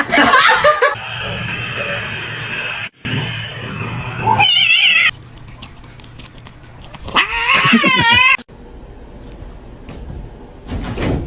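A cat meows and caterwauls in several drawn-out, wavering yowls separated by pauses, close and loud, with some background clatter.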